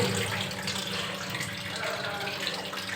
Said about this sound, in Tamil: தண்ணி பார்த்திங்கன்னா ஊற்றிக்கிட்டு இருக்கு